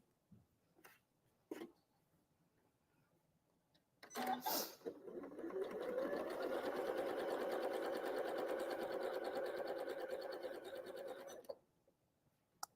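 A sewing machine runs steadily for about seven seconds, stitching a scrap while piecing a Carpenter Star quilt block, preceded by a few soft taps and clicks of handling.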